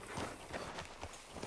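Horse hooves clip-clopping in Red Dead Redemption 2, a quick run of soft, fairly faint steps with a steady rhythm over low background ambience.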